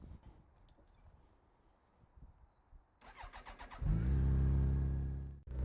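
A Yamaha FJR 1300 motorcycle starts up after quiet handling noises, its engine catching and settling into a loud, steady close-up idle that cuts off abruptly at the end.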